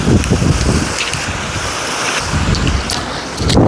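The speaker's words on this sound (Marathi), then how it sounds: "हेच पाणी खाली धबधब्याला जाऊन कोसळते" Steady roar of water crashing down a waterfall at Madhe Ghat, broadband and continuous, with gusty wind buffeting the microphone throughout.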